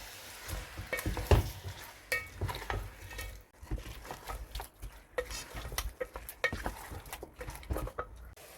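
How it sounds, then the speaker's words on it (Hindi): Chicken pieces frying in a pot with cardamom and two bay leaves for a degi-style chicken korma, with close stirring scrapes and soft sizzling in irregular bursts, loudest near the start. "इसको अच्छी तरह से भूनेंगे कि चिकन का कलर जो है वो चेंज हो जाए"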